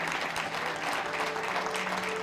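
A church congregation claps together in a dense, continuous wash of applause during a Hindi sermon, loud and steady with no individual claps standing out.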